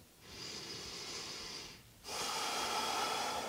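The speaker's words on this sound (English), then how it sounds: "Another full cycle of breath here." Deep breathing during a heart-opening camel pose in an intermediate vinyasa yoga class: a long airy exhale, a brief pause, then a stronger, steady inhale heard close and alone.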